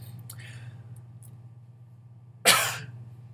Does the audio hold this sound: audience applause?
no